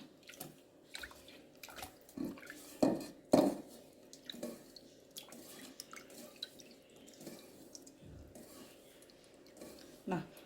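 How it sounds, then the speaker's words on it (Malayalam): Hands squeezing tamarind in a bowl of water, with soft wet squelches and splashes in an irregular rhythm, close and quiet, as someone talks over it. "പുളി ഇതുപോലെ നമ്മൾ നന്നായിട്ട് കൈകൊണ്ട് പിഴിഞ്ഞെടുക്കണം"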